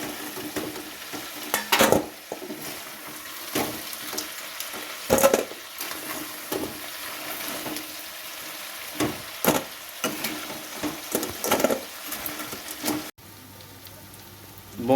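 Crabs frying in hot oil give a continuous sizzle, broken every few seconds by loud scraping stirs of a spatula, before the sound cuts away near the end.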